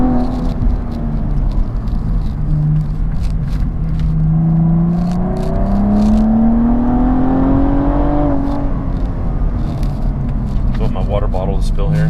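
Hennessey-modified Cadillac ATS-V making 550 HP accelerates hard from inside the cabin, a deep engine drone climbing steadily in pitch through the gears with a brief shift dip, under occasional voices.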